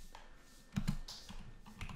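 Fingers typing on a computer keyboard while entering node setup details, a few quick faint key taps and clicks close by, some slightly louder, with no speech.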